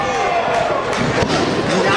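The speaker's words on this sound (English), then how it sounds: "That clothesline was like a gunshot!" A pro wrestling clothesline lands in the ring during Jon Moxley vs Sami Callihan, a sharp slam amid loud crowd noise and excited commentary over the whole moment.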